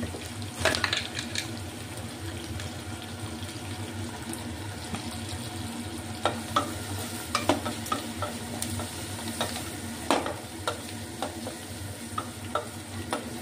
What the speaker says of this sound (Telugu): ఇవన్నీ బాగా ఫ్రై అయ్యాయి కదా